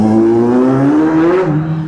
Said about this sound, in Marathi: चाक स्पिन झालं लिटरली. ड्रिफ्ट मारली मी आता